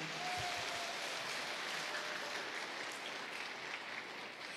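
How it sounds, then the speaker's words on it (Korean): A church congregation at a Christmas service gives sustained applause after a children's praise song, a soft, even wash of many hands clapping at a distance. "다시 한번 큰 박수 부탁드립니다."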